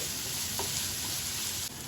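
Steady, bright sizzling of lentils frying in hot oil, close and continuous, with a faint stir partway through.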